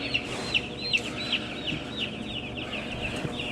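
Chickens clucking in a large poultry barn housing thousands of birds, with a steady murmur of many hens and repeated sharper clucks rising over the flock's constant background din.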